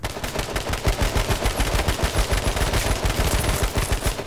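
Rapid automatic AK-47 gunfire in the video game H1Z1 bursts in a fast, steady stream of loud, sharp shots, continuous for several seconds.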